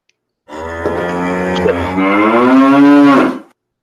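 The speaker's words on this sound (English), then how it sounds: "Listen again. Calf, a cow, you know, chapter of the cow." A single long, loud cow moo, close by, rising and drawn out for about three seconds before stopping abruptly.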